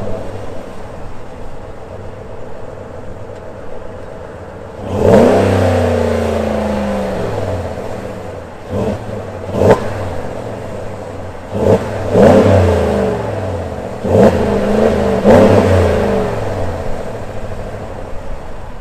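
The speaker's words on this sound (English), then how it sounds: "Take the 2024 Ram Rebel for a spin." A 2024 Ram Rebel V8 pickup truck revs and accelerates in repeated loud surges with rising engine pitch, several throttle pulls following one another up close with no talking.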